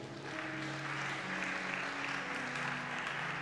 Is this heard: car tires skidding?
no